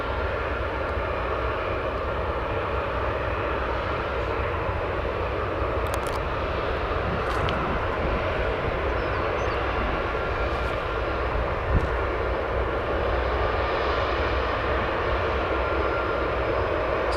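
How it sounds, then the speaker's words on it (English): Airliner landing on runway 9 left at O'Hare after an earlier go-around, a steady broad jet roar that holds loud and constant throughout, with no talk over it. "that aircraft that did the go-around a few moments ago, now about to make a successful landing on 9 left"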